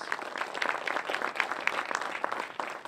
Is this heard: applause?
yes